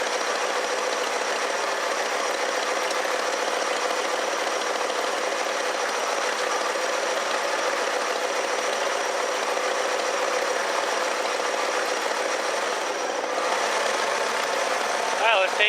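A 1969 Lincoln Mark III engine idles hot and steadily in park up close, a constant even hum with a faint mechanical ticking, with a brief shift in tone near the end.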